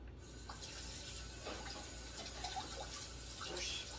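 Jalapeño peppers are rinsed under a running kitchen tap, a soft continuous hiss of flowing water with faint splashes and small clinks close by.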